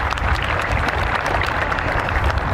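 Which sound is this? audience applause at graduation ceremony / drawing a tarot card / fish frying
audience applause at graduation ceremony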